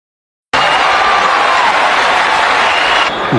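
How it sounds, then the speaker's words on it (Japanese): A loud, dense roar from a large sumo arena crowd bursts in suddenly after a short silence and holds steady as continuous cheering, with an announcer's voice mixed in. "大歓声に迎えられました。"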